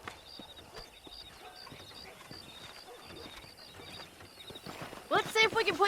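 Horse hooves clip-clopping in the video game Red Dead Redemption, a steady soft rhythmic clatter under quiet game ambience, followed by a louder burst of sound near the end.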